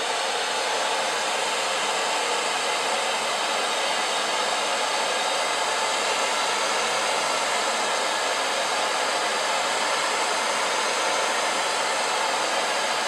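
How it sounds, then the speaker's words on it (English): A hair dryer blows steadily at close range over tape-in hair extension bonding adhesive, a continuous loud airy whoosh with a constant motor hum and no pauses or voices. "Go ahead and again hit it with the blow dryer."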